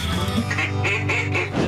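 A duck call or duck quacks in a rapid string of four or five loud, nasal, rasping honks, close and prominent over a steady background.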